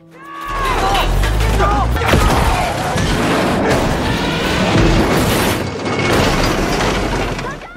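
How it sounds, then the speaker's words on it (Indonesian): A war film battle scene is dense with loud gunfire and mortar explosions, heavy booms and crackling blasts layered continuously with shattering debris and faint shouting voices. "mereka diserbu oleh deru tembak yang brutal hingga terhantam oleh mortir"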